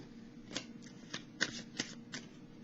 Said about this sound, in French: Je vais piger une carte pour le masculin